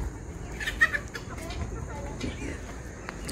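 Soft clucking from a few free-range village chickens, somewhat distant and fairly faint, with a brief louder squawk near the start over a quiet background.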